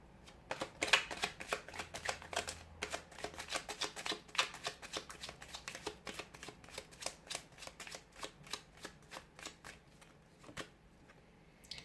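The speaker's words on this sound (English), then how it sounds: "give the cards a shuffle" Tarot cards are shuffled repeatedly in quick riffling bursts, close and fairly quiet, with a steady rhythm and no talking.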